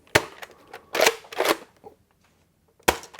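A Nerf Recon MK2 toy blaster fires with several sharp, dry plastic snaps and clicks, close and loud, spaced irregularly with short quiet gaps between them.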